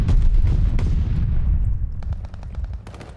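Rapid tap-fired gunfire from an NZ-41 rifle in Call of Duty: Vanguard battle royale, a loud dense burst of close shots fading into a rhythmic string of sharp single cracks.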